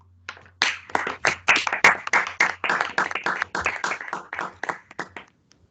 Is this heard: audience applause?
yes